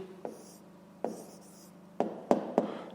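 Pen strokes writing a math answer on paper, a few short scratchy bursts spaced apart, close and quiet, with no talking.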